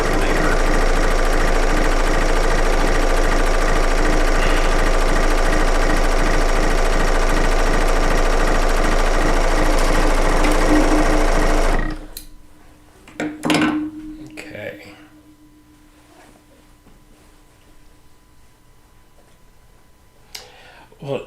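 A serger sewing machine runs steadily while stitching quilt seams, a dense mechanical whir with rapid ticking that stops abruptly partway through, followed by quieter handling clatter and brief speech.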